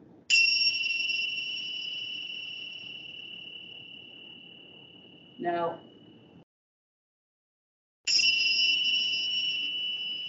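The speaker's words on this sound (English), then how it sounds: "These are also percussion instruments. You don't hit them. You wouldn't do that to temple bells." Small temple bells strike one another, giving bright ringing tones that sustain and slowly fade, followed by a short spoken word and a gap, then another clear strike rings out.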